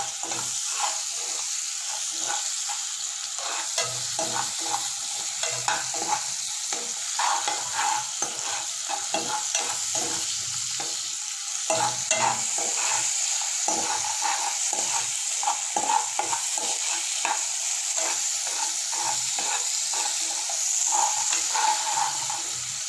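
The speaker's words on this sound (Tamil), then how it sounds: "நம்ம இந்த வெங்காயம் தக்காளி இதை போட்ட உடனேவே நம்ம தேவையான அளவுக்கு சால்ட் போட்டுடலாம்." Onion and tomato sautéing in a pan for noodles, a steady sizzle with a continuous hiss and frequent scraping stirs of a spoon, close and even throughout with no talk.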